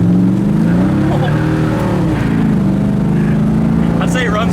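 A 1971 Buick GS 455 convertible revs and accelerates hard, its engine note rising loudly and steadily from inside the car, with people talking over it.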